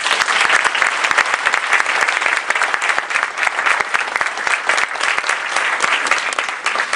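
Sustained, loud audience applause at a first year experience conference, a dense wash of clapping from a large crowd welcoming John Prendergast to the stage, steady throughout with no talking.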